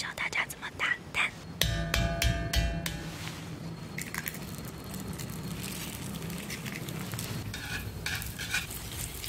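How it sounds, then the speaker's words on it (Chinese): Eggs beaten in a bowl with quick, rhythmic clicking strokes during egg frying in a kitchen, with a steady sizzle-like hiss continuing underneath. "接下来我要教大家怎么打蛋"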